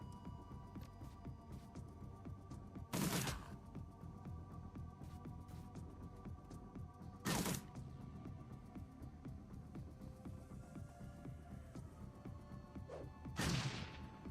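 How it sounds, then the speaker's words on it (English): Burst-fire gunshots in Shadowrun Dragonfall come as three short, sharp bursts spaced several seconds apart, fairly faint above a steady low hum. "Burst fire."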